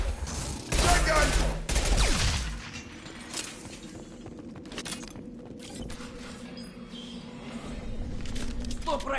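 Bursts of gunfire from the video game Mass Effect 2, with loud, dense shotgun-like blasts in the first few seconds, then quieter mechanical combat sounds and creaks continuing underneath.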